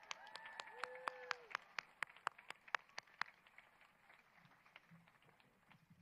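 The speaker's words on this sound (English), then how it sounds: "Another round of applause, please." Graduation audience at a high school ceremony applauding after a student music performance, fairly faint and distant clapping that fades out, with a few sharp individual claps and brief tones standing out above the crowd.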